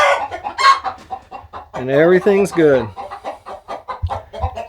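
Chickens in a backyard coop cluck and squawk close by, with a rooster crowing loudly in the middle, while someone talks briefly over the flock.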